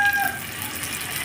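Sweet potato turon sizzles in hot frying oil, a soft, steady broadband hiss heard close and fairly quiet, with no voices.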